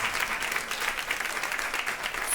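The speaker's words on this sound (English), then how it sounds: "Please give her a round of applause." An audience applauds at a climate conversation event, steady dense clapping sustained throughout with no pauses, moderately loud and even.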